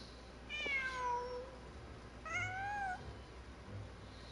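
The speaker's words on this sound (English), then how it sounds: "Just a cat." In a video game, a cat lets out two clear, drawn-out meows about two seconds apart, fairly faint over a quiet backdrop.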